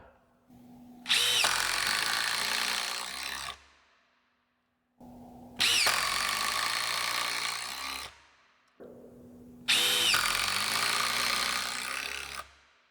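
Three long bursts of a loud entry-level impact driver whirring and grinding as screws are driven, separated by short pauses.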